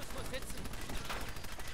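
Rapid gunfire from the video game Fallout 4, a dense burst of repeated shots filling the clip loudly with game background noise beneath.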